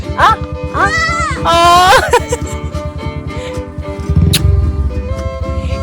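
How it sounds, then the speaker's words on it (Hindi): A baby goat and a lamb bleat up close, several high wavering cries in the first two seconds, followed by shuffling and a low rumble, with a person talking nearby. "एक ये बकरी का बच्चा और एक ये भेड़ का बच्चा"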